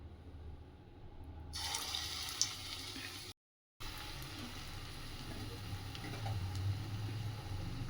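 Pakoda batter sizzles steadily in hot oil in a home kitchen, a continuous close crackling hiss that breaks off briefly and then resumes.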